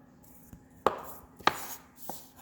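A knife chops tomatoes, onion and pepper for pico de gallo on a cutting board, with a few sharp, irregularly spaced knocks close by, the strongest two near the middle.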